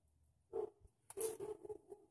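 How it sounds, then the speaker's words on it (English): A dog barks in the background of a garage during a lawn tractor oil change, a few faint distant barks in two short bursts. "probably barking at a squirrel."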